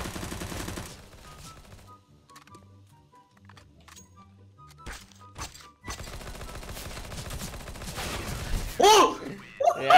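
Submachine gun fire from a UMP in CS:GO, heard as scattered loud bursts and sharp shots that grow denser toward the end, with game effects around them.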